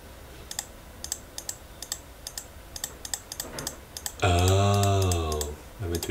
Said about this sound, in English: To be clicking on these checkboxes.